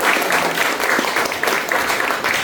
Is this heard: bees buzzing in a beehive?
no